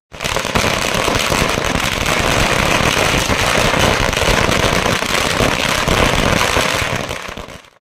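Dense, continuous crackle of firecrackers and fireworks set off at a street celebration of a BJP election win in Mundra, loud and unbroken for several seconds.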